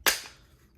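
A Glock 17 Gen 5 17-round magazine drops free from the pistol with a single sharp metallic clack that quickly fades, close and fairly quiet with no talk.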